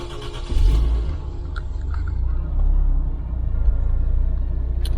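A Jeep XJ fitted with a Toyota 1JZGTE engine catches and settles into a deep, steady idle rumble, with a low throb continuing close by.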